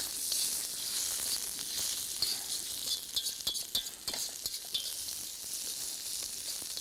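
Garlic with red and green chilies and chopped onions sizzle in a pan for shepherd's pie, a hissing crackle up close, quiet overall, with a cluster of quick clinking stirs in the middle.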